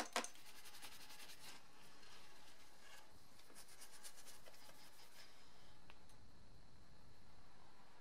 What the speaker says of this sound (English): I removed the parts and rubbed them down with some Scotch-Brite to remove any leftover rust